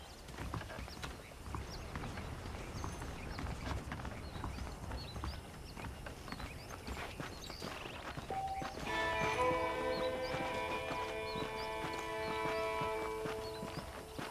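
Steady clip-clop of horse hooves in Red Dead Redemption over a busy outdoor ambience, with a soft whinny and layered tonal game sounds joining partway through.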